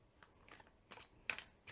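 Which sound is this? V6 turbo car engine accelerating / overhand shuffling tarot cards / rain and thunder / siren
overhand shuffling tarot cards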